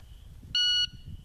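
A shot timer gives a single loud, piercing electronic beep lasting about a third of a second, set against low background rumble before and after, during a cross-draw holster shooting drill.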